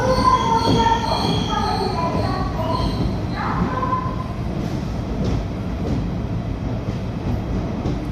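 An eight-coach Shalimar–Badampahar weekly express with an old ICF rake rolls into Kharagpur Junction loudly, with high metallic wheel squeals and a steady rumble, the squealing fading as it slows near the platform.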